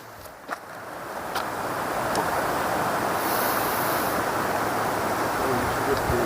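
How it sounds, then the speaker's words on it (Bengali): Water from a stream near Pansua Dam rushes and gurgles steadily in a broad, continuous wash that builds slightly and then holds, fairly loud and close. "জলের কুলকুল করে আওয়াজ।"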